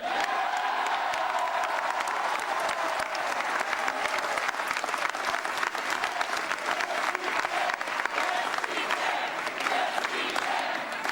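Sustained, dense applause from a large audience at a political rally for a Massachusetts special Senate election, steady and loud for the whole stretch with faint cheering mixed in.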